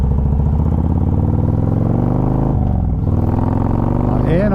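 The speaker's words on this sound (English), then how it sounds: "This will be the first time I've been on the interstate since I've redone the bike." A modified Harley-Davidson motorcycle cruising on the interstate, its loud, steady engine drone running throughout with a brief dip in pitch partway through, as if shifting gears, and wind rush around it.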